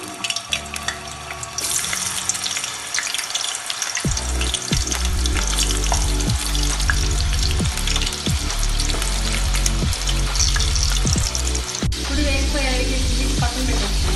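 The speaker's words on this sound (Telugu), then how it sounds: "ఇప్పుడు బంగాళదుంపలు ఆయిల్లో వేయించుకుందాం." Potatoes fry in hot oil for dum aloo, a loud, close, continuous sizzle and crackle with repeated scraping stirs through the middle and later part.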